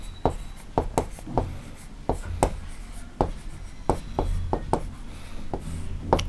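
Chalk taps and short strokes on a classroom board as integers are written, a brisk irregular series of sharp knocks, close and distinct with faint room noise between.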